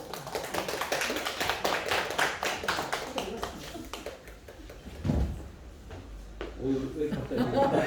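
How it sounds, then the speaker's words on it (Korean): A congregation at a worship service claps in rhythm, fairly close, with laughter and chatter mixed in as the applause thins out toward the end. "박수로!"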